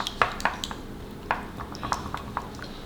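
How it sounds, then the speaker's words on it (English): A utensil quickly mixing milk into beaten eggs in a bowl, a handful of light clinking taps against the bowl at irregular intervals, close up over a faint room background. "2 tablespoons of milk into the egg wash, and we're just gonna give that a quick mix"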